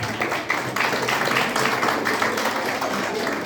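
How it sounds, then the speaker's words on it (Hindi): An audience claps steadily at a Hindi poetry gathering held at a Kendriya Vidyalaya school, the dense applause sustained and fairly close throughout without pause. "अगर मैं सच बोल रहा हूँ तो आपको ताली बजानी"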